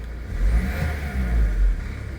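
A Vauxhall Vivaro van's diesel engine with a blocked DPF is revved up and let fall back, its deep close rumble swelling twice over a steady idle with a faint whine above.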